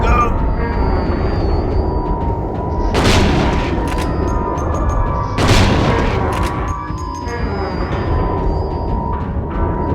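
Gunshots in Silent Hill 2 in the Brookhaven hospital, two loud sharp cracks a few seconds apart ringing over a steady low rumble, with a voice talking through the scene.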